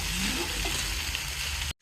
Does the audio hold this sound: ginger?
yes